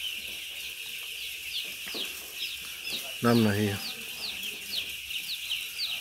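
Young chicks peep in a high, steady chorus throughout a poultry house, with a brief louder burst of human speech in the middle.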